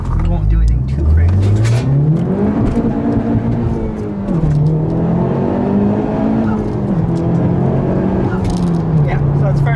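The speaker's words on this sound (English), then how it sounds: "So this is what my car sounds like inside." From inside a Honda Civic Type R fitted with a Skunk2 exhaust, the engine drones and rises through the gears as the car accelerates, with steady road and cabin noise throughout and no speech.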